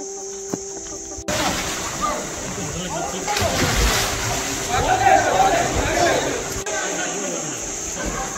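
Water splashing and sloshing close by, a steady churn lasting several seconds with footsteps and faint voices around it.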